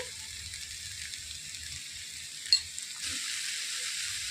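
Tamarind leaves being stirred into an onion curry in a pan, a soft, even sizzle with a single sharp clink of the spoon midway, after which the hiss grows louder, no talk.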